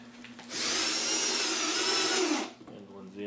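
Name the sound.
power drill driving screws into soft spruce wood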